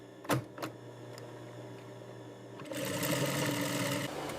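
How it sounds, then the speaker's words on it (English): An industrial sewing machine stitches seams on an ostrich leather handbag in a factory: a couple of sharp knocks, a quiet pause, then a steady fast mechanical whir of the needle running near and loud. "The main structural seams are done by machine for strength."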